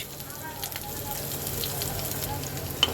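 Chili, garlic and chopped onion frying in a pan for a bottle gourd peel and seed bharta, a steady close sizzle and crackle running throughout with faint clinks.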